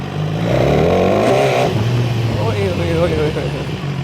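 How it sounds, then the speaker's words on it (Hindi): A motorcycle engine turns over and catches, then idles and revs with wavering pitch, loud and close; a voice may be faintly mixed in. "मैं ये बाइक स्टार्ट कर रहा हूँ"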